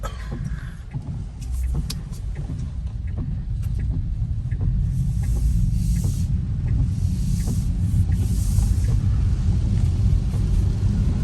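Inside a Tesla electric car on a first drive, a steady road rumble and tyre hiss build gradually as it drives and turns, with no engine note and no talk.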